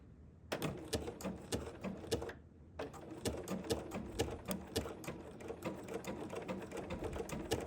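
Sewing machine running entredeux stitch number 701 set about 5 mm wide, needle down, during a circular embroidery attachment lesson; a steady rapid mechanical stitching chatter starts after a brief pause, stops for a moment, then runs on evenly and close.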